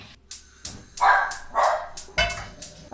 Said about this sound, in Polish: ale nie szczekaj mi, proszę, nagrywam